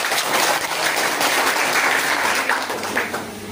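Audience of students and trainees applauding a guest at a skill-training event: a dense, steady burst of clapping from many hands filling the room, loud and sustained, with no speech over it.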